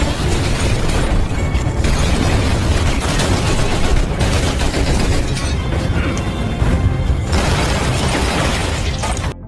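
Dense, continuous gunfire from an action film shootout, with rapid bursts of shots and booming blasts layered over a loud, busy soundtrack that never lets up.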